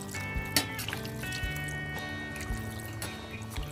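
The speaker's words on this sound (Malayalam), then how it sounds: "ആവശ്യത്തിന് വെള്ളം അങ്ങ് ചേർത്ത് കൊടുക്കാം" Water poured into a pot of Kerala-style nadan chicken curry, a steady liquid trickle and splash running under faint background music, close and fairly quiet throughout.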